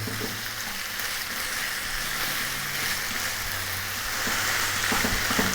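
Thinly sliced lamb's liver and potato frying in a pan for a spicy Indian liver fry give a steady, close, dense sizzle with occasional stirring scrapes and no talking.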